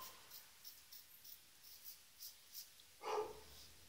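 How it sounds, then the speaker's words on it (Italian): An American Staffordshire Terrier gives a single faint bark near the end, heard against a quiet background of steady insect chirping. "abbaia ai cani che passano"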